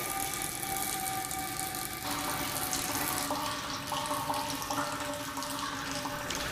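Water flows steadily from the outlet of a permeameter into a catcher during a constant head permeability test, a continuous close hiss of running water with no voices.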